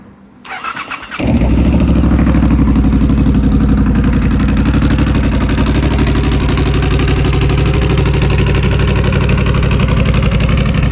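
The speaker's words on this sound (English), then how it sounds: "what we want to hear is this bike running, so clutch in" A Triumph Scrambler 1200 X fitted with a slash cut exhaust starts up after a short whirr and settles into a loud, close, steady idle with a deep throbbing pulse that runs on uninterrupted.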